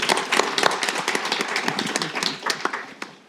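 Audience at a political analytics polling conference clapping for the panel moderator, a dense burst of many hands with sharp claps standing out, close and fairly loud, thinning toward the end.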